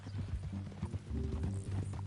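Horse hooves clip-clop at a steady walking rhythm in Red Dead Redemption 2, fairly close and moderately loud over a low rumbling background.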